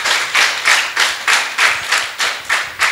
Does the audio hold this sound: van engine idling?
no